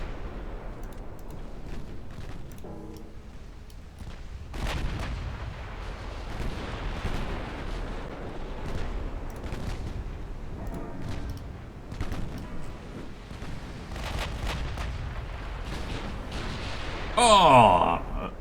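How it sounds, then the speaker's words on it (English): Heavy 14-inch naval shells slam into destroyers in a video game sea battle, a steady rumble of distant gunfire and impacts with one louder burst of blasts near the end. "managing to get a 14-inch shell to explode inside it and killing off a couple of Korean destroyers"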